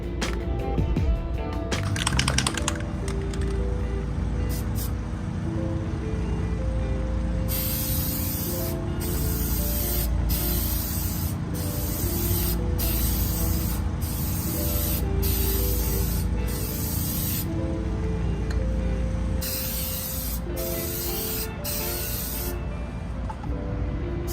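Plasti Dip rubber coating sprayed from an aerosol can onto a Onewheel Pint electric board, a steady hiss broken into a run of repeated spray bursts with short pauses between them, loud and close throughout.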